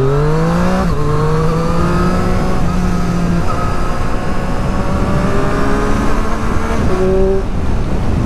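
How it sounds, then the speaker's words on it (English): A 2022 Triumph Street Triple RS motorcycle engine roars steadily at high revs, loud and close, its pitch climbing and dropping through gear changes, continuous. "It really starts roaring when you get up into the higher RPMs."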